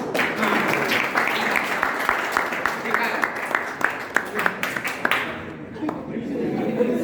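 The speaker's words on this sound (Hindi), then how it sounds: "भाई ये तालियां मेरे लिए है या सर के लिए?" An audience claps with sharp, distinct claps over crowd murmur and chatter, and the clapping tapers off near the end.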